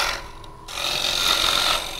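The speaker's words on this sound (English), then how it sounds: "get this wood out of the way" Woodturning tool cutting away walnut wood on a candelabra piece, a close rasping scrape that starts after a brief pause and holds steady for over a second before easing off.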